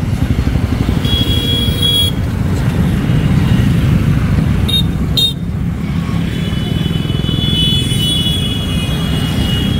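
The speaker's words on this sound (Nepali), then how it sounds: "मोटरसाइकल ऱ्याली रहेछ यही बिरतामठमा अहिले" A motorcycle rally of Rastriya Prajatantra Party supporters rolls by on a street in Biratamod, Nepal, with many engines droning close and loud while horns toot in short bursts over the traffic noise.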